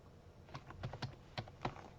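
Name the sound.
typing text on a computer keyboard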